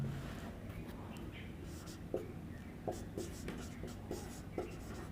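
Chalk or marker scratching on a board during a chemistry lesson on electrochemistry and conductance, a few short distinct strokes over a quiet room with a soft hum.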